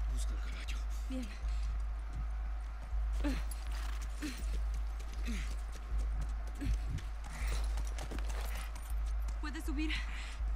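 Horse hooves clop rhythmically on the ground in the wintry world of the video game The Last of Us, a steady mid-level gait with occasional voices and small jingling sounds mixed in.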